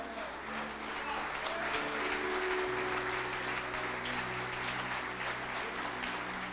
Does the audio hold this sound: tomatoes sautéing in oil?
no